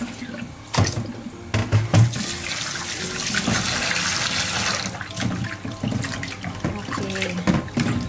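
Tap water runs steadily into a sink while pork liver is rinsed, with splashing and gushing that shift as the meat is handled, and a voice speaks briefly near the start.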